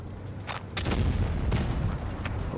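Tank cannon fire from a Skoda tank in the World of Tanks Blitz game, heavy booming shots and rumbling battle noise, several blasts in quick succession over a steady low roar, no voices.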